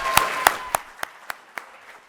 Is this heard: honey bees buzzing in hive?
no